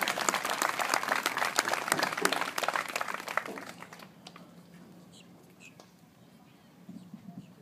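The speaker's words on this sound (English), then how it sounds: "Let's have one final big round of applause for Caitlin, Jeff, Denise, Cole, and Courtney." An audience at a Pop Warner football season dedication gives a round of applause, dense clapping loud for about four seconds and then thinning to scattered claps with faint murmuring.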